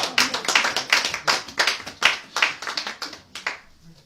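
A church congregation claps together in praise of the Lord, a steady rhythmic run of sharp hand claps at an even beat that fades slightly at the end, with no talk over it.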